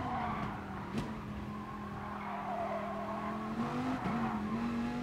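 Race car engine in a racing video game on The Mountain circuit, droning loud and steady as it brakes and drops through gears on a corner exit, with brief pitch dips at each shift and no talk.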